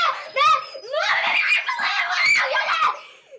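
A young girl of about six screams and shrieks loudly and shrilly in a home, the rising cries mixed with laughter-like squeals over a few seconds.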